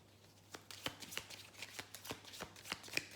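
Tarot cards being shuffled by hand, a quick run of crisp riffling snaps close to the mic, fairly quiet, with no speech.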